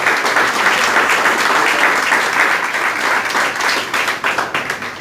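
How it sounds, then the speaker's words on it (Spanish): A church congregation claps to welcome first-time visitors, a full, even wash of applause that thins slightly toward the end. "le demos un aplauso de bienvenida a las personas que nos acompañan hoy por primera vez"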